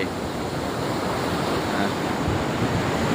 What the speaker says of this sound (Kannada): ಸಮುದ್ರ ಸಮುದ್ರ ಸಮುದ್ರ ಎಲ್ಲಿಂದ ಎಲ್ಲಿವರೆಗೆ ನೋಡಿದ್ರು ನೀರು